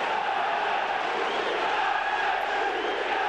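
Leeds United football crowd at a Yorkshire derby roars in a dense, continuous wash of chanting and shouting from the stands, loud and sustained throughout.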